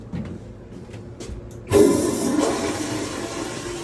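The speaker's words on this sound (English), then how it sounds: "new toilets that flush really well" A new toilet flushes: after a low background hum, a sudden loud rush of water kicks in and churns steadily to the end, close by.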